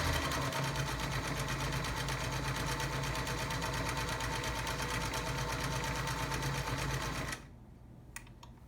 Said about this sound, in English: So let's just start with our straight stitch and see how she goes.